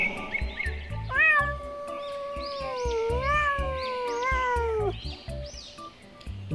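A cartoon cat in a children's ABC phonics song gives a few drawn-out, clear meows over a steady, bouncy music backing.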